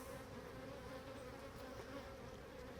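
Honey bees in an open beehive during an inspection keep up a continuous, even buzzing hum, faint and steady throughout, with no speech.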